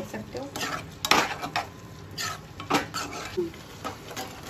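Paneer being tossed with cornflour in a pan for dry chilli paneer, irregular clinks and scrapes of a spoon against metal with a soft sizzle underneath, close and fairly loud.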